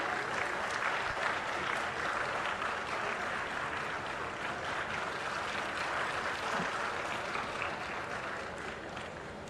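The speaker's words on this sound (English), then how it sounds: "Let us give a resounding round of applause to this landmark achievement." A crowd at an official launch ceremony claps steadily in sustained, dense applause that slowly tapers off toward the end.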